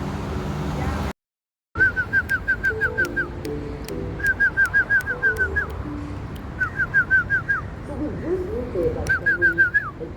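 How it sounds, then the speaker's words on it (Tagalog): Pigeons coo low and soft nearby while feeding, while bursts of rapid, high chirping repeat in quick series after a brief silent gap. "ganda ng kalapati guys oh"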